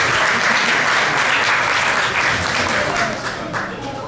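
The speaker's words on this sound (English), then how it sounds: "So big round of applause to" Audience at a Srimad Bhagavatam lecture in an ISKCON temple in Brampton claps, a steady, fairly loud wash of applause that tapers slightly toward the end.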